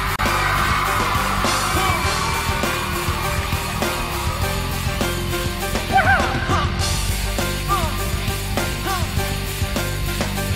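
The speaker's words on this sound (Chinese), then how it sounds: "尖叫声在哪里？" A concert crowd screams and yells throughout a 2011 New Year's Eve show on Shenzhen TV. The shouts and whoops rise in repeated bursts over loud, steady music with a pounding beat.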